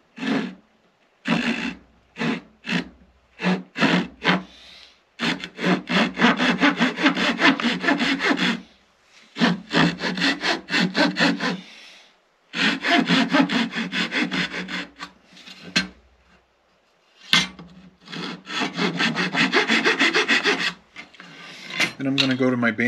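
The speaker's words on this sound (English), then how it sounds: "Then I'm going to take a hand saw and I'm going to cut down to that 1/4 inch mark." A hand saw cuts a piece of wood for a cigar box guitar in close, rhythmic rasping strokes, several quick short passes and then longer sawing runs separated by brief pauses.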